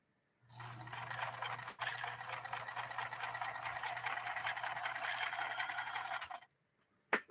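A workhorse Japanese-built Kenmore sewing machine runs a steady top-stitching pass for about six seconds, a constant mechanical whir with a low motor hum, briefly interrupted once before stopping abruptly.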